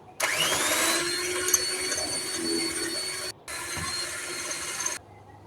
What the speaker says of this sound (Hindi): मैंने थोड़ा-सा यहाँ पे बीटर चलाया था